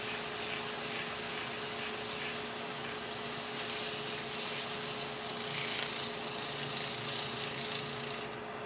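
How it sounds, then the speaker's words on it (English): Sandpaper rubbing a freshly turned piece of green hawthorn wood spinning on a lathe, a steady close hiss under a constant motor hum, stopping abruptly near the end. "So I'm going to give it a quick sand, a quick seal."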